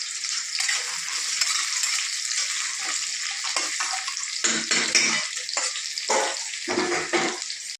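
Chicken curry frying in mustard oil, a steady broadband sizzle with stirring and scraping bursts running throughout, close and fairly loud, with no talking.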